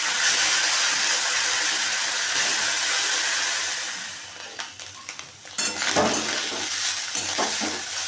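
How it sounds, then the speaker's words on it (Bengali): Small kachki fish frying in hot oil in a pan, a loud dense sizzle that settles down, then gives way to clinks and scrapes as the fish are turned, with the sizzle rising again. "মাছগুলো আগে ভেজে নিচ্ছি"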